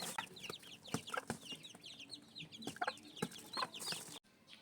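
Gold mother hen and her young chicks on a farm cluck and peep, with soft clucks and sharp chick chirps scattered through the stretch and a few thumps, faint and close, ending abruptly.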